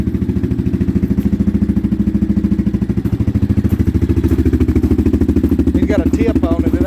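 A Yamaha Banshee ATV engine with an aftermarket exhaust tip idles close by in a steady, rapid two-stroke putter, holding a constant pulsing rhythm throughout. Someone briefly speaks near the end.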